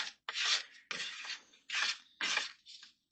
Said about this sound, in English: you just flatten it, mush it in, scrape it up